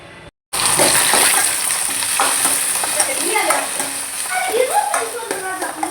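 Chicken sukka frying in a pan in a home kitchen, a loud, steady sizzle filling the whole stretch, with stirring scrapes of the spoon through the masala breaking in now and then.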